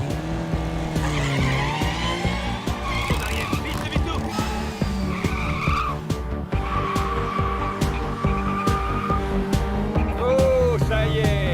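A car skids through a series of turns, drifting and counter-steering with sustained tire squeal over a loud, revving engine, as on a racing course, with excited voices talking over the noise.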